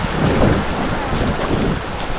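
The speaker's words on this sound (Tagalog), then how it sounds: "Ang lakas lang ng hampas ng alon." Waves surge and crash steadily against the shore, a loud continuous wash of water mixed with gusty wind buffeting the microphone.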